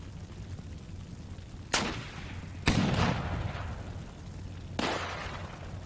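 An RPG firing during a Steel Beasts Pro PE tank battle, with three sharp, loud blasts well spaced apart, each trailing off into rumble over a low steady engine drone.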